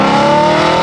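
BMW E92 M3 with its high-revving engine, a loud, close, steady raspy wail held for under a second with no voices.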